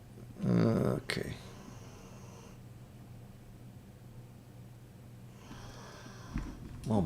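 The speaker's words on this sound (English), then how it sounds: "my dog's really snoring away back there." A dog snores somewhere behind the speaker, with rough, breathy bursts at the start and end and a low, steady hiss between them.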